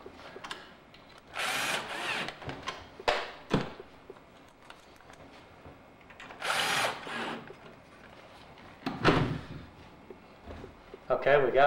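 A power drill driving screws into a door while a mortise lock is installed, several separate whirring bursts of a few seconds each, close by, with someone talking between them.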